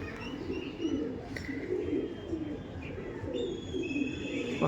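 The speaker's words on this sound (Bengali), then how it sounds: "এগুলো তো উড়ান পায়রা, হ্যাঁ এগুলো উড়ান পায়রা" Andhra flying pigeons cooing in soft, continuous, rolling calls, with faint chirps and background noise throughout.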